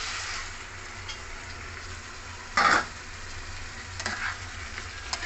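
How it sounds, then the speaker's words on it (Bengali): Quiet, continuous sizzle of soaked lentils and fried cashews cooking in a wok for sabudana khichdi, with a brief louder scrape of stirring midway and a few light clinks later. "ভালো করে নেড়ে নেব"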